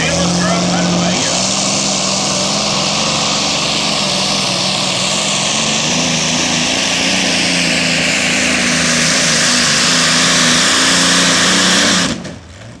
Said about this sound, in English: Not a bad run for a single Allison aircraft engine, I'll tell you.